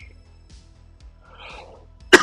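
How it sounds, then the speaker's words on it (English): A person coughs close into a microphone near the end, a sudden loud burst after quiet background with a faint low electronic buzz during a coding session. "Sorry about coughing in your ears"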